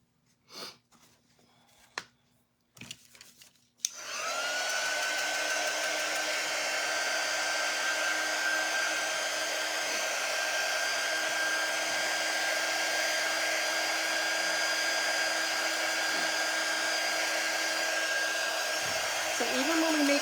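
After a few soft handling clicks, a hair dryer switches on and blows steadily and loudly, drying chalk paint on a Snoopy doghouse kit, with a continuous airy whoosh to the end.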